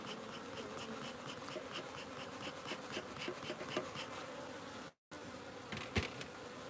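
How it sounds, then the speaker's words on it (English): Bees buzzing in a dense, continuous drone around an open beehive during queen cell work, with a brief dropout partway through. "To get the bees out of the way,"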